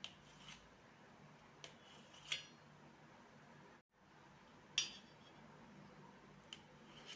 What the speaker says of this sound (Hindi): पनीर को मैं टुकड़ों में काट लेती हूँ।